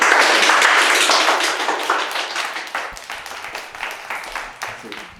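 A studio audience claps to welcome a contestant onto a show. The dense applause starts loud and gradually thins into scattered, fading claps.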